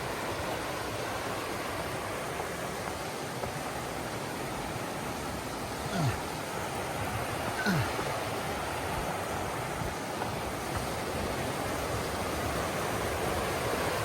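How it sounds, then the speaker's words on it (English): Waterfalls on a river pour out a constant, dense rushing wash at even loudness throughout, with a couple of faint, brief chirps rising over the roar midway and no talking. "Ah, some waterfalls here."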